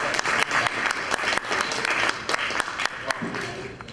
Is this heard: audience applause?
yes